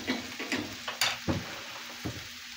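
Food cooking in a pan on a stove at medium heat, soft sizzling broken by a few sharp clicks and stirring scrapes, close and fairly quiet.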